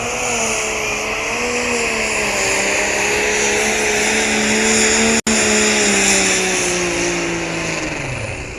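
A drag racing car's engine roars loud and close at a night race meet, holding a sustained high-revving drone whose pitch slowly sags and wavers, then drops away near the end.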